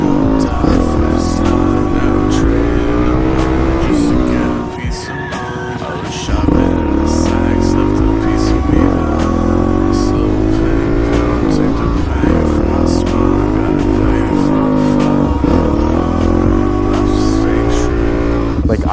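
A motorcycle engine is held at steady, constant throttle during wheelie practice, a loud close drone with brief surges and one short drop in revs partway through.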